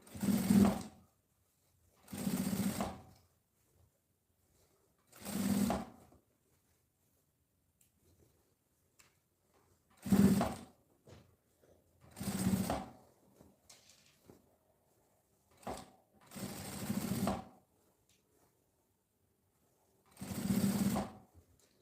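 A sewing machine stitches the lining of a women's backpack in eight separate bursts of about a second each, loud and close, with quiet gaps between runs while the fabric is adjusted.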